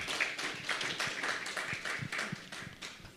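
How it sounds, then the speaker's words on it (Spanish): Applause from a church congregation at an evening prayer service, a scattered patter of hand claps with a few sharper individual claps, moderately close and steady throughout. "Sí, un fuerte aplauso."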